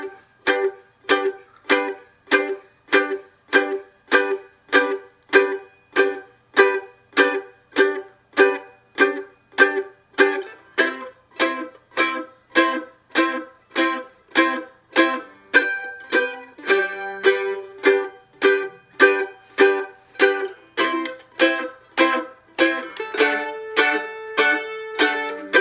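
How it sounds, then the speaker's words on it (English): Mandolin chop strumming: a steady run of short, percussive muted chords struck on an even beat, each crisp and clipped, played close and alone with no talking. "that is the mandolin chop"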